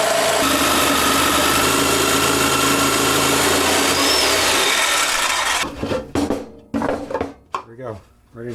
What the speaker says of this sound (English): so I'm just going to use a jigsaw.